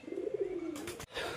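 A pigeon perched on a rooftop with two others coos faintly in a rolling phrase, followed by a brief burst of rustling noise.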